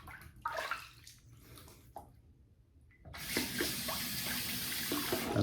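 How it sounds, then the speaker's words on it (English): Hands rinsed under a running bathroom tap after shaving, heard first as intermittent splashes and then as a steady, close rush of flowing water for the last couple of seconds. "I'm gonna rinse my hands off here"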